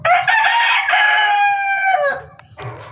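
A rooster crows loudly and close by, one long strained call lasting about two seconds, followed by softer clucking.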